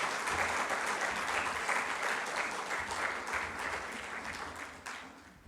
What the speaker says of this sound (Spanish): Ayúdeme a darle una ofrenda de palmas a Dios por la iglesia.